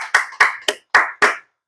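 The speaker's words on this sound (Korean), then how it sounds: "우리 하나님께 감사와 영광의 박수 올려드리겠습니다" Five short bursts of hand clapping from a church congregation at the close of a Sunday worship service, each burst sharp and then fading, separated by brief gaps and ending in silence.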